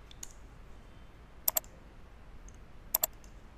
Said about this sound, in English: So I'm going to click on this.